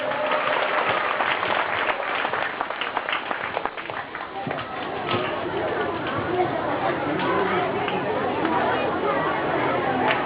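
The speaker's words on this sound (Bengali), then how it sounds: "হাততালি জোরে" A crowd claps steadily at a Durga Puja celebration, a dense, continuous wash of hand claps mixed with chatter and voices throughout.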